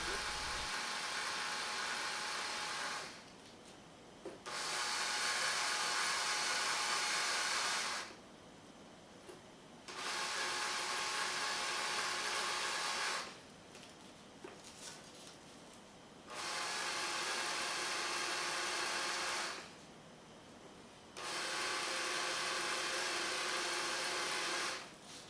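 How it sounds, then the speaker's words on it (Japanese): Electric drill fitted with a chamfer cutter pressed into a drilled hole in a pipe, four bursts of high whirring and grinding a few seconds each, separated by pauses, close and moderately loud. "電動ドリルの先端をドリルビットから面取りカッターに付け替えて穴に押し当てて面取りを"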